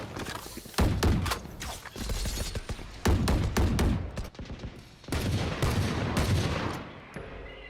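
Gunfire from a Valorant pro match at Champions 2023, LOUD versus EDG, with repeated sharp shots and short bursts packed closely together, loud and busy throughout, with no talking.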